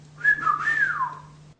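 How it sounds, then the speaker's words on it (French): A person whistles a short rising and falling melodic phrase, close and clear, alone for well over a second with a faint steady hum underneath. "Tu sais siffler? Prouve-le."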